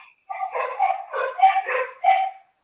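Puppies barking and yipping behind a closed door at the far end of a house, several short high-pitched bursts in three clusters, muffled and distant but clearly audible.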